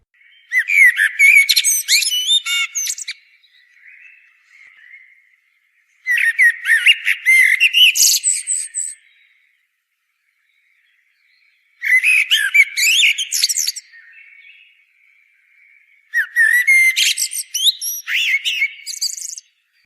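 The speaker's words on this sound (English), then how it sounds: "Desprez heard the song of the blackbird" A blackbird sings close by and loud in four separate phrases, each a fluty warble ending in a twittering flourish, with quiet pauses between them.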